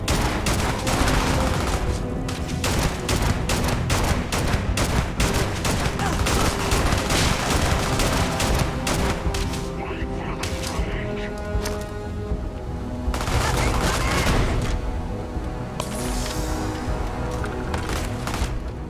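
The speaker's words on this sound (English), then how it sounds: "Taking some fire." Gunfire in Starfield: sustained, loud volleys of rapid shots, dense through most of the stretch with a brief lull midway before firing resumes, with voices now and then.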